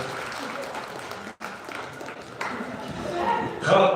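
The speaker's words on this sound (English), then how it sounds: "let's give her a round of applause" Crowd applause for a fancy shawl dancer at an outdoor powwow, a moderate spread of clapping that briefly drops out, then swells louder toward the end with some voices mixed in.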